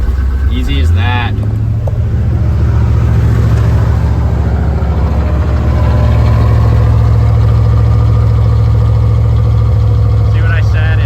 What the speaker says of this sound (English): See if we can get the idle to come down a little bit.